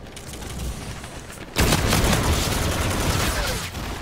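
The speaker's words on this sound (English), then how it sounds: "This is a burst pistol." A burst pistol firing in Call of Duty: Infinite Warfare, with a sudden loud cluster of gunfire and explosive booms starting partway through, continuing densely for over two seconds after a lower game background.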